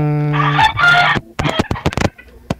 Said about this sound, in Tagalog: manok yung naririnig ko